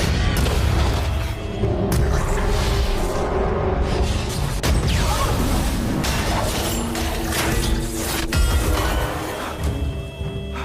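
Loud, sustained rumbling blasts with crashing debris and thuds, dense and continuous throughout, like a large explosion and its aftermath.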